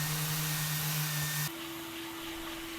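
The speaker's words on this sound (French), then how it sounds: "on passe l'aspirateur pour éliminer les dernières poussières" A vacuum cleaner removes the last dust from a newly finished wooden terrace. Its steady, loud whooshing drone shifts to a slightly different pitch partway through, with no talking.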